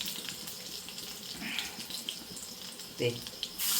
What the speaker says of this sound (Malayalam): നമുക്കിനി ഇതിനകത്തോട്ട് ഇച്ചിരി വെള്ളം ഒഴിക്കാം